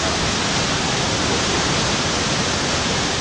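Niagara Falls on the American side, seen from a boat. A dense, steady, broadband roar of falling water fills the whole stretch without pause, loud and unbroken, with no voices.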